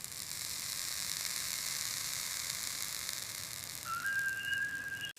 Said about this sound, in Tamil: இப்போது தயாராக வைத்த முட்டை கலவையை தோசைக்கல்லில் ஊற்றுகிறேன்